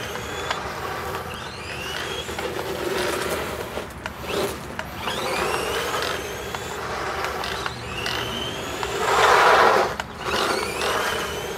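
An HBX Dune Thunder 12891 RC car driving on a freshly repaired broken tire, giving a steady whining, rumbling motor with rising and falling pitch sweeps as it speeds up and slows, continuous and fairly loud.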